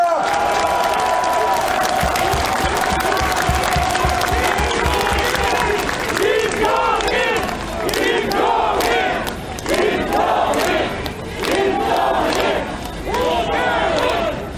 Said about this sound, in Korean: 우리 김종인 위원장님께 큰 박수 한번 보내주시면 좋겠습니다.